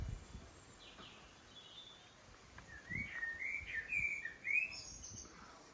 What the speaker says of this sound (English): Listen to the birdies. That sounds like a robin.